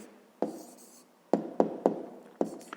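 A pen or pencil writes a math exercise answer on paper, with five short distinct taps and scratches at uneven intervals, close and quiet, with no talking.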